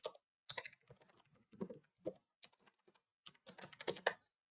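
Keys click on a computer keyboard as text is typed into home design software, coming in quick irregular bursts with short pauses, close and fairly quiet with no talking.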